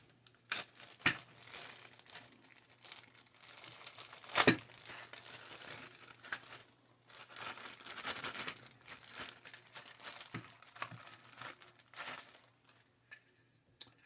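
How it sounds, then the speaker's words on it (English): A plastic bag crinkles and rustles as a Tamiya 1/35 British 25-pounder field gun and Quad gun tractor kit is unpacked, close and intermittent, with sharp crackling bursts and brief quiet gaps between handlings. "There's another plastic bag."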